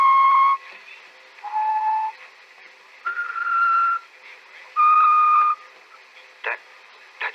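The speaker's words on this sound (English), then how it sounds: "He's always whistling it." A person whistles a tune indoors in a series of clear sustained notes at varying pitches, each held around half a second to a second with short gaps between, fairly close and alone, ending with a few brief sharp sounds.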